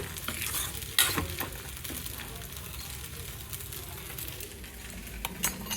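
Curry leaves and dried red chillies fry in hot oil for an upma made with poha, giving a steady soft sizzle with a couple of sharp crackles and utensil scrapes, fairly close and moderately quiet.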